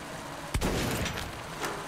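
Gunfire in Metro 2033 Redux, a single sharp close gunshot followed by a rumbling echo and a fainter second report.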